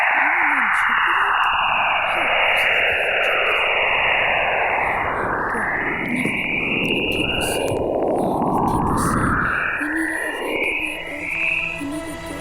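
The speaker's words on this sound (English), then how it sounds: "What you just heard was actual radio waves coming from Jupiter's auroras." Radio emissions from Jupiter's auroras, captured by a spacecraft instrument, form a continuous wash of static with eerie sweeping, swooping tones rising and falling over the noise, loud and steady throughout.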